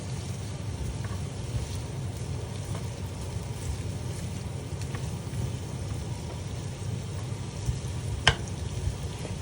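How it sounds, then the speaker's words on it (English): Cumin seeds fry in hot oil for mogli chicken, a steady crackling sizzle with scattered small pops and one sharper spit near the end, close and continuous with no talking. "that's now frying"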